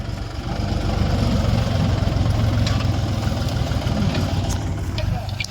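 A tractor engine runs steadily close by in a farm field during urad bean sowing, a loud continuous low rumble with a faint rattling texture throughout.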